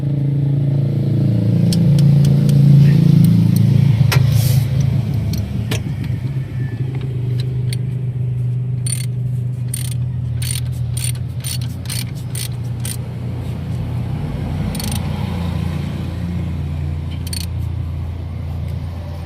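A drive belt adjuster is tightened on a running Isuzu Crosswind engine, with a steady engine hum and low drone under scattered metallic clicks and ratchet-like ticks.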